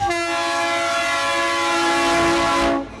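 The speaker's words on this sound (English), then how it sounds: "the seemingly constant blowing of the horns on trains that run through the area" A passing train's horn blows one long, loud, steady blast for nearly three seconds before cutting off, with no talk over it.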